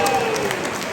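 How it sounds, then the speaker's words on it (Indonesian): A crowd applauds at a farewell ceremony for a deputy ambassador to the Netherlands, a dense, steady patter of clapping that goes on through the short clip. "Mari kita berikan tepuk tangan lagi untuk Bapak Freddy dan keluarga"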